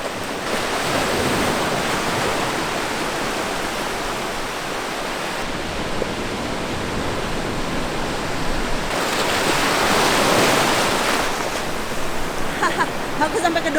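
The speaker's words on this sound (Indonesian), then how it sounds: "tuh kencang sekali ombaknya" Strong ocean surf roars and crashes continuously at Tanjung Bira, Bulukumba, in extreme weather, loud and close, with a swell building and breaking midway, wind noise mixed in.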